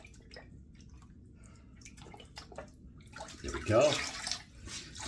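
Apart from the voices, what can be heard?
rinsing soap out of a washcloth with water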